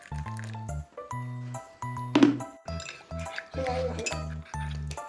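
Very hot water poured into a cup in a rural home kitchen, a short gurgling fill with a rising pitch near the middle, set among intermittent Cebuano talk.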